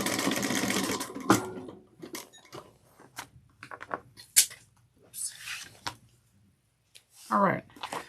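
A sewing machine back stitches a seam on a vinyl bucket bag, with a short burst of steady whirring stitching at the start, then scattered clicks, clunks and handling noises as the work is adjusted.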